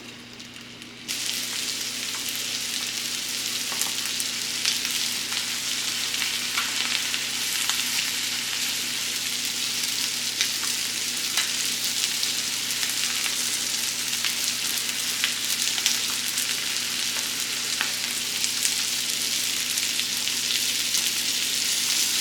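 Chicken thighs marinated in shio-koji sear skin-side down in a hot pan, a steady, loud, continuous sizzle that begins abruptly after a brief pause and holds evenly throughout with no talking.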